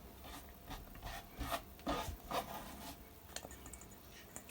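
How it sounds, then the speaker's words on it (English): Carrots are grated on the big side of a grater, giving repeated soft rasping strokes in an uneven rhythm, close and fairly quiet, with no talk. "I just grate out these 3 carrots."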